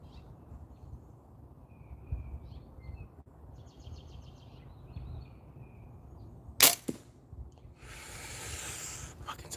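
A sharp, sudden click as an arrow strikes another arrow already lodged in an archery target outdoors, standing out once over steady wind and ambient noise, with faint birdsong earlier.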